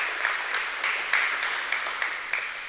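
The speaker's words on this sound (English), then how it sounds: "Can you give them a round of applause?" Audience applause at a spray-industry forum: steady, moderately distant clapping from a gathered crowd, with a sustained textured wash and faint periodic peaks, continuing evenly throughout.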